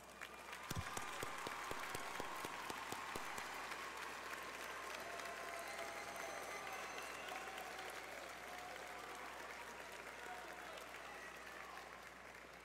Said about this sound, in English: please stand and receive a well-deserved round of applause